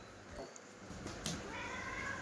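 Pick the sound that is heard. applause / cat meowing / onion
cat meowing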